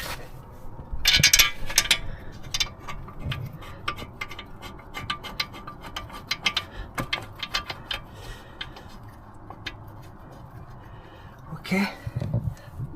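A ratchet works a bolt on the front wheel bearing of a Mercedes-Benz W212 E250 4matic, giving rapid close clicking in bursts with metallic scraping, fairly quiet, while a person talks at times.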